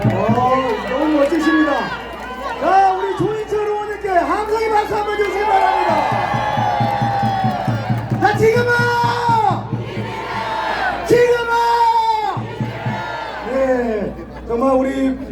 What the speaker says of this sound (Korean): 함성의 박수 한번 주시기 바랍니다